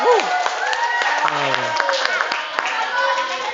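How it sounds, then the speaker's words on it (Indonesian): Scattered clapping from a classroom group mixes with overlapping voices and chatter, the claps light and uneven throughout. "Tepuk tangan."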